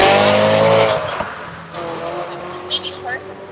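Loud Maserati car engine howling for about a second, then dropping away as a voice begins talking over a faint lingering rumble.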